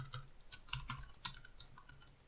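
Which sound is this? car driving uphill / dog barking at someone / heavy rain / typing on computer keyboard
typing on computer keyboard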